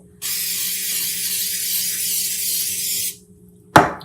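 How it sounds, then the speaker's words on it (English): A steady aerosol spray of cooking spray onto a muffin pan hisses continuously for about three seconds, then stops; a short clack follows. "get our pan, our cooking spray, and we're going to spray down all of our little muffin things"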